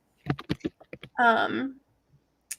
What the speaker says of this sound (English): your microphone is like in front or behind your keyboard, but it keeps making the clacking noise